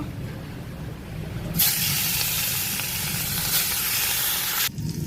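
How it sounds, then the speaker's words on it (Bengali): Hilsa fish hit hot oil and set off a loud, steady sizzle that starts suddenly, holds for about three seconds, then cuts off, with no voices. "তেল গরম হয়ে গেছে, এখন মাছগুলো ভেজে নেব।"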